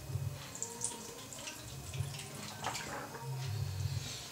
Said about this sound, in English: just give this a rinse off.